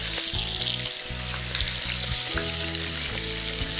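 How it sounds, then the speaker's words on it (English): Short ribs seasoned with salt and pepper sear in a very hot pan, giving a loud, continuous sizzle with crackling spatter and no talking. "you want it nice and searing hot because you want to lock in all of those juices"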